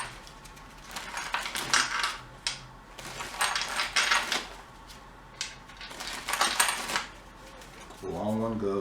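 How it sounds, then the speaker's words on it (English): Steel oil pan bolts for a Nissan VK45DE 4.5-liter V8 clink and rattle in quick bursts of metallic clatter as they are set down on a hard surface, with a voice speaking briefly at the end. "So now, oil pan bolts. Just lay them down and go crazy."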